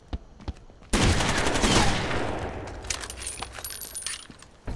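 Automatic gunfire in Rainbow Six multiplayer PvP: a sudden loud burst erupts after a few quiet clicks and rattles on for a couple of seconds before tapering, followed by scattered metallic clinks and small impacts, with no talking.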